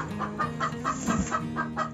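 Hens clucking in a steady, repeated rhythm as they are fed, fairly close, with a low hum running underneath.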